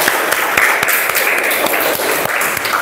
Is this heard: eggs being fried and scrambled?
no